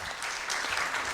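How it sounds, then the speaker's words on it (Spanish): Audience applause at an evening conference talk, a brief, fairly soft patter of many hands clapping together with no voices over it. "Aplauso, por favor."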